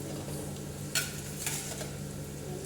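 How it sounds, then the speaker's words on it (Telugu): Washed chicken dropped into ginger masala frying in a pan, a quiet continuous sizzle with two brief scraping stirs, no one talking. "చికెన్ వేసుకుందాం ఫ్రెండ్స్"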